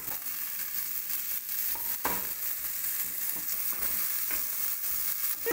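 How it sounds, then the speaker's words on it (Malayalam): Onion and capsicum fry in a pan for chicken noodles with a steady, close sizzle throughout, broken by occasional stirring scrapes and clicks and no speech. "നമ്മുടെ ഓണിയൻ ഒന്ന് വാടിയതിന് ശേഷം ഇതിലേക്ക് ക്യാപ്സിക്കൻ ഇട്ട് കൊടുക്കാം."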